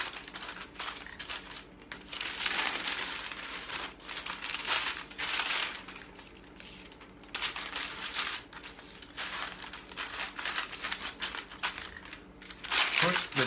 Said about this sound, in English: the dough against the parchment paper